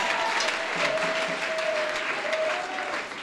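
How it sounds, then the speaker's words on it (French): A church congregation clapping for Jesus at a testimony service, steady dense applause from a crowd filling the room, loud and continuous with no pauses. "Can you clap for the Lord for this testimony?"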